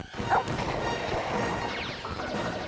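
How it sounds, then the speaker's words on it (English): Barking from Lupus, the big leaping dog in an N64 video game, sounds as a short sharp bark near the start over busy game music and effects, continuing at moderate loudness throughout. "This is the dog, Lupus. He's a big leaper."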